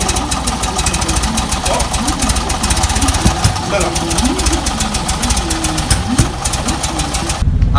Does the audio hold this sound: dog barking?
no